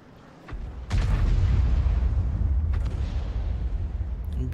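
Heavy artillery fire in a tank battle game, a sharp blast followed by a sustained rumbling roar of incoming shots and explosions, loud and continuous with no talk.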